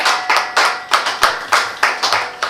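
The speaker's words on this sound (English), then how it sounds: "Please let us give the coordinator another round of applause" A round of applause for the coordinator at a criminal law review conference, heard as a few loud, close, rhythmic claps in regular bursts rather than a full crowd.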